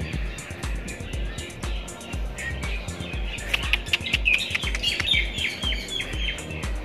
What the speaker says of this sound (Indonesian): Nah, tuh ada burung-burung yang lagi terbang tuh.